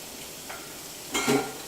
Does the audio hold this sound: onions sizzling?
yes